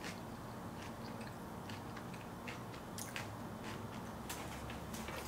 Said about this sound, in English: Okay, last bite.